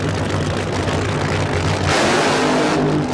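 Nitro funny car engines roar loud and close at a 1987 Bakersfield fuel and gas drag race, a dense rumbling drone that surges harder partway through.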